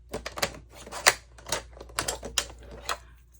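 A sharp tool scoring paper for faux library card pockets, making a rapid series of close, crisp clicks and scratches in an uneven rhythm.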